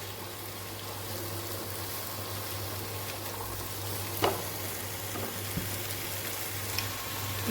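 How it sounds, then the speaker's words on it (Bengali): Vegetables sauté in a pot for khichuri, giving a continuous, even frying hiss with a couple of brief clicks from stirring, alone with no voices. "কষাতে কষাতে একদম মজে গেছে সবজিটা"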